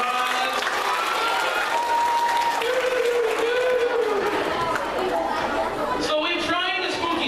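A middle school show audience bursts into sustained, loud applause and chatter lasting several seconds, with voices and whoops mixed into the clapping throughout.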